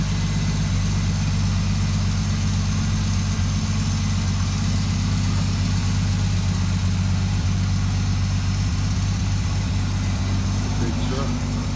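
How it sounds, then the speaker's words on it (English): A big truck engine idles close by with a steady, unbroken low drone that stays at an even loudness from start to finish. "Big truck."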